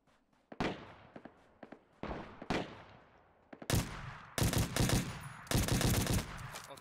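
Gunfire in the video game ROE, scattered single shots and short bursts building into loud, dense volleys, some distant and some close, with no talk over it.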